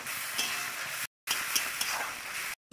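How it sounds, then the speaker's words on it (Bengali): Ground spice paste with salt, turmeric, cumin, coriander and chilli powder sizzles loudly with potatoes in a hot pan, steady close frying hiss with stirring scrapes, cut by two brief silent gaps. "মশলাটা কষিয়ে দিলাম আলুর সঙ্গে।"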